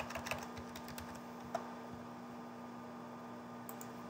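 Quick, light keystrokes on a computer keyboard while logging in to the Mitel Connect client, a short cluster of faint clicks over a steady electrical hum, then near silence with a few more taps at the end.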